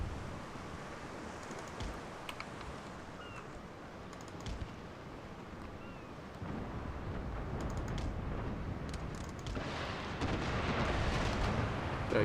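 Naval cannon fire from sailing warships engaging a pirate ship in the strategy game Empire: Total War, a dense, continuous booming rumble of volleys with scattered sharper cracks, growing heavier toward the end.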